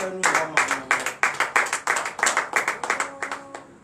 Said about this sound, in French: Donnez de vives acclamations à l'Éternel.